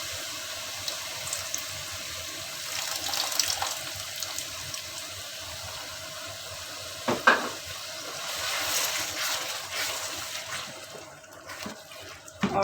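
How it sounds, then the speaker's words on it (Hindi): Ginger, garlic and green chili paste thinned with water is poured into a simmering black chana curry in a pan, giving soft wet sizzling and stirring sounds with a few louder splashes, fairly quiet throughout. "इसमें थोड़ा सा पानी ऐड करके तो वो भी इसमें मैं डाल देती हूँ।"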